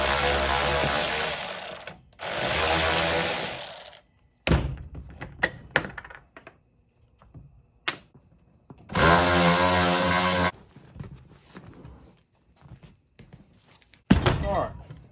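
On a 1968 Fastback driver's seat, an Allen bolt is worked loose with a power tool: loud buzzing bursts of a few seconds each, separated by sharp clanks, knocks and rattles of metal, close by.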